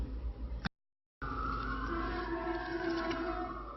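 A wailing emergency vehicle siren rises and falls in long sweeping tones after a brief cut of silence, heard with traffic-like background noise.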